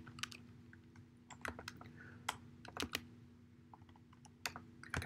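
Keys clatter on a computer keyboard in short irregular bursts of close, quiet typing with brief pauses, under a faint steady background hum.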